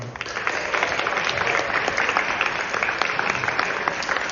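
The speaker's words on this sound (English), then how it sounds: "A huge round of applause for all of the great musicians who played here today" Dense, steady audience applause for musicians after a performance, a sustained crowd of many hands clapping at even loudness throughout.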